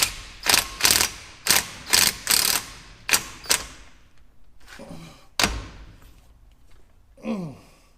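A ratchet socket wrench clicks in quick bursts on a dump truck wheel hub, several loud close ratcheting runs separated by pauses, followed by a metallic clunk and a sigh-like breath.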